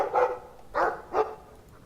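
A dog barks three times in the Dragon Age 2 video game, short clipped woofs spaced about half a second apart, fairly close and clear with no talking.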